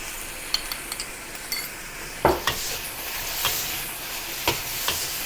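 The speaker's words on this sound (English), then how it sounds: "Quick stir and fry it over high heat, and let the sauce to coat and cover all the mushrooms." King oyster mushrooms being stir-fried over high heat with Kung Pao sauce, a soft steady sizzle broken by scattered scrapes and clinks of a utensil against the pan, close up with no voices.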